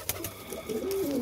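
A pigeon coos close by in a few soft, throaty calls, a short burst of cooing heard alone without talk.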